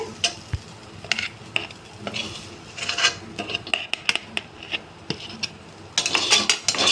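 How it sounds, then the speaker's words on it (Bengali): Cooked potol (pointed gourd) stuffing being scraped with a metal spoon from a kadai onto a plate, giving a string of sharp, irregular clinks and scrapes of utensil on metal and dish, fairly close, with no talking. "এখন আমি পুরটা নামিয়ে নিচ্ছি প্লেটে।"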